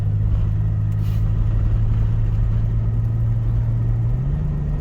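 A 1990 Dodge Grand Caravan LE engine running steadily, a loud, close, even mid-low drone with a slight rise in pitch near the end, no talking over it.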